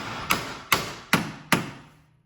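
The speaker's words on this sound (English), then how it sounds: "whatever I'm hitting with the hammer, we're replacing" A hammer strikes a rusted-together part on a 1993 Eagle Talon four times in an even rhythm, each blow a sharp metallic whack with a short ringing decay, loud and close.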